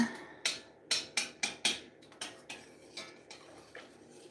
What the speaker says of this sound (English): I'm just going to help it dissolve by stirring it in